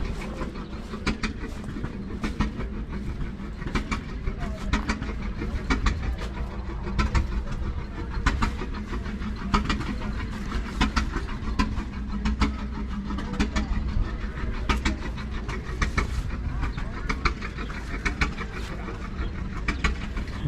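A rare Rumely OilPull engine running at a threshing show, giving a steady, rhythmic chugging at moderate distance over a busy outdoor background with faint voices.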